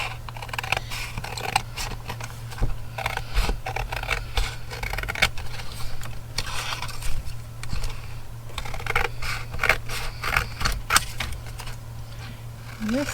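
Scissors cutting paper while making ephemera, a series of close snipping and crisp paper rustles against a steady low hum, with scattered handling noises throughout.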